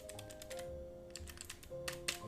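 Rapid clicking keystrokes on a computer keyboard at a streaming setup, close and fairly quiet, in uneven bursts over a faint steady hum.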